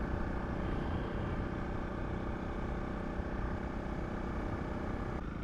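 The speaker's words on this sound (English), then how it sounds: "I'm doing, of course, this trip with my trusted Honda CRF 300 Rally." A Honda CRF 300 Rally motorcycle climbing the Franschhoek Pass in South Africa gives a steady, unbroken engine drone mixed with wind rush, heard close and alone for the whole stretch.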